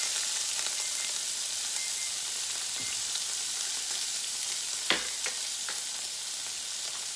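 Bell pepper and onion fry in olive oil in a pan with a steady, even sizzle and occasional soft pops and stirring clicks, close and continuous, with no talking.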